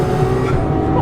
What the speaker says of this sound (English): As I'm sure you can tell by the sound of the RPM of this car.